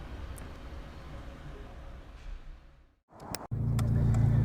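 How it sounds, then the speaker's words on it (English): A 2000 Ford Racing Puma on the road, a steady broadband drone of engine and road noise that dips briefly, then swells into a louder, deeper rumble. "we'll just take you over the road in this little Ford Racing Puma"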